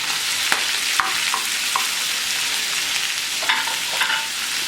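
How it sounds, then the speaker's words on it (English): Corn kernels roast in a pan of bacon grease with a steady, close sizzle, and a few sharp scrapes and clicks from stirring cut through now and then. "what I'm doing is just roasting the corn"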